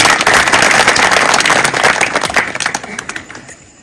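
An audience at a village gathering breaks into loud, dense clapping that holds steady, then thins into scattered claps and fades out near the end.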